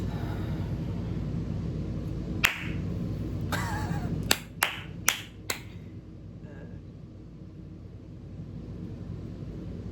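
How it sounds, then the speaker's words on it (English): Hands clap to clear energy in a quiet room: one sharp clap, a short pause, then a quick run of four crisp claps, with a faint soft sound trailing afterward. "I'm going to do some clapping because I read that clapping can clear energy"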